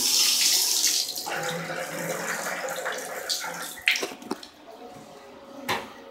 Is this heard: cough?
no